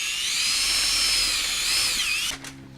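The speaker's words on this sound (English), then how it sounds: "Now all we have to do is drill a couple of holes." A power drill whines steadily while boring holes for a fairing bracket, a loud high-pitched spin that dips in pitch near the end before cutting off to a brief low hum.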